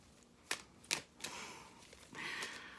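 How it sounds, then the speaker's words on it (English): A few sharp clicky riffles of tarot cards being shuffled close by, then a longer ruffling burst near the end, with quiet pauses between. "I'm trying to shuffle cards."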